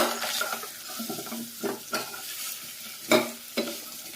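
Pumpkin pieces go into oil where seasoning has been fried, and they sizzle and crackle while a spoon scrapes and stirs in several distinct bursts, close and with no talking.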